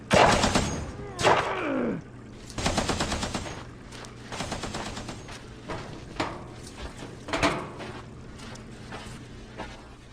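Gunfire in a horror audio drama, with several loud bursts of rapid automatic fire and single shots, close and punchy, separated by brief pauses.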